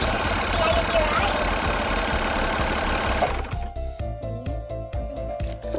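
A home sewing machine runs in a rapid, steady mechanical whir, close and fairly loud, then stops and gives way to a quieter room where someone talks.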